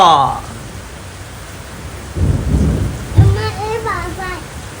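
Steady monsoon rain pours down in Konkan as a deep roll of thunder rumbles through, followed by a brief voice.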